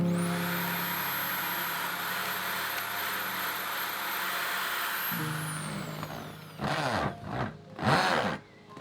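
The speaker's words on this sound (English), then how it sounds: "seems like I finally found a use for my hammer drill." A hammer drill runs loud and steady for about five seconds with a high whine, set in a rustic woodland cottage under renovation, then stops and gives way to a few short, heavier bursts of drilling.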